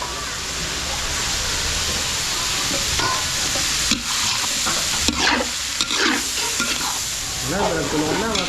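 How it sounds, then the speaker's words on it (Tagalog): Ground meat and hotdog sauté in a pan for chicken spaghetti, a loud continuous sizzle with stirring scrapes throughout, while people talk over the cooking. "Giniling, hotdog, sa gisa."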